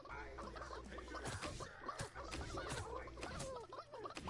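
Chickens cluck and squawk repeatedly in a video game, faint busy bird calls mixed with game sounds and a voice speaking over them.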